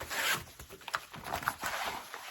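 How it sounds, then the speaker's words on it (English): A sturdy zipper on the open zippered pocket of a sewn tote bag is pulled along in quick, close, raspy bursts over about two seconds. "I've got this big open zippered pocket, and you can see like, you can just hear how sturdy that is."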